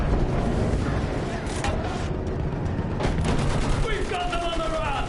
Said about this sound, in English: Use that machine gun. Mow them down.